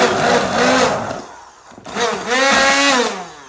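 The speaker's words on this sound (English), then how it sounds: "I'm just gonna use my immersion blender" An immersion blender whirs in two bursts, a short break between them, its motor pitch rising and falling as it churns through thick cranberry sauce close by.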